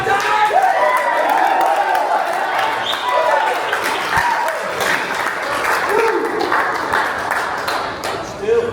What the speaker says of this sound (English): The crowd very active